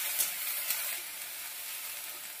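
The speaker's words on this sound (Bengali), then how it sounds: "এবার বেটে রাখা পেঁয়াজটা দিয়ে দিচ্ছি। ভালো করে কষিয়ে নেবো পেঁয়াজটাকে" Ground onion paste hitting hot oil and frying, a bright continuous sizzle with a couple of quick ticks at the start, then a steady hiss for a couple of seconds.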